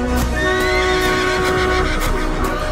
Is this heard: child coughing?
no